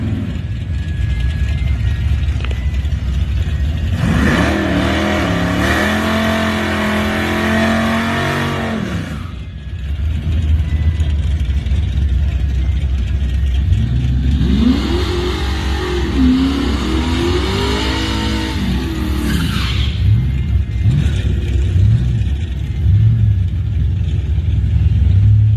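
LT1 Camaro making a drag racing pass at a shootout event: loud engine roar rising through revving sweeps, a pause between shifts, then another climbing rev run, with a steady rumble throughout.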